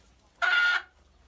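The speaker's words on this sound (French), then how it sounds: "c'est un coq" A rooster gives a single short, loud crow against a quiet background.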